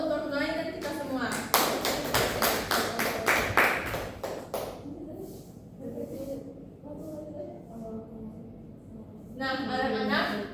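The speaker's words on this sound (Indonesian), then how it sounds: "tepuk tangan dulu untuk Noi dan kita semua" A class applauds a student named Noi, with a burst of rapid clapping rising in the middle and fading into talk, then a brief second round of claps at the end, voices heard throughout.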